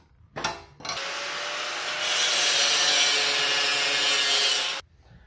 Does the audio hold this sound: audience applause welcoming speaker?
no